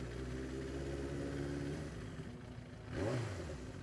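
A Suzuki GSX 750 motorcycle engine idles steadily, then briefly revs up with a rising roar before settling back down, heard close and loud.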